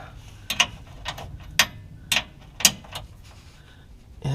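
A wrench backing out bolts on a Smittybilt rear bumper, sharp metallic ratcheting clicks coming in short uneven bursts with pauses between them, fairly close and alone.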